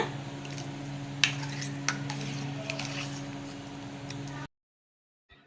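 Curd rice with pomegranate seeds being mixed together for an Aadi Perukku festival dish, a soft steady scraping and stirring with a few sharper clicks of a utensil against the vessel, no talking, ending in silence.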